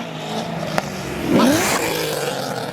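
A Mitsubishi revs hard at a rainy car meet, its engine note climbing sharply partway through over a steady background of crowd and traffic noise, with a brief knock near the start.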